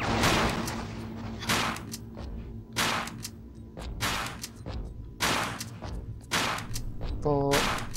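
Enemy gunfire in a Tomb Raider custom level video game: several loud, spaced booming shots with decaying tails over constant background game noise, ending with a short tonal chime.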